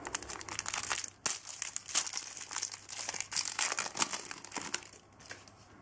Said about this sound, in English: So we'll start with the Lallana and Aguero pack.